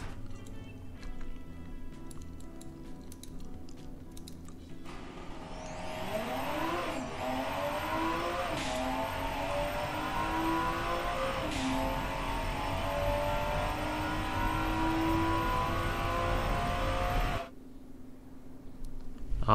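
A 1984 Athena CS322 Rallye car in the game Automation accelerates hard, its engine climbing through several gears with distinct upshifts, loud and steady, before cutting off near the end.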